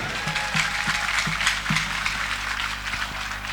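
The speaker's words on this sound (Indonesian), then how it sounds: "Tepuk tangan untuk mereka." Applause from a large audience at a Javanese Islamic religious gathering, a mass pengajian held for Indonesia's 75th Independence Day at a pesantren, steady broadband clapping with a low hum and faint rhythmic thumps beneath.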